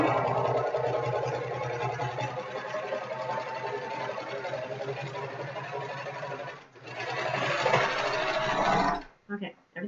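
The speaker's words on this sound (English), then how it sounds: "I'll just regular surge the whole thing." A serger runs steadily while edging a hoop crinoline, a fast continuous mechanical whir that pauses briefly, resumes, then stops with a few short clunks near the end.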